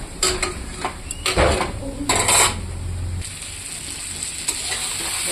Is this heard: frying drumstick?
yes